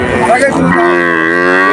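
A cow at a cattle market lets out a long, loud, close moo that rises and then holds a steady drawn-out tone.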